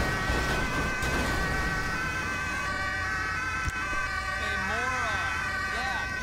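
Police car siren wailing continuously in a video game, loud and steady with rising and falling sweeps near the end, and someone talking over it.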